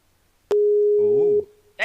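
A single loud, steady telephone call tone sounds for about a second as a caller rings in, with a person's voice talking over its second half and again just after it stops.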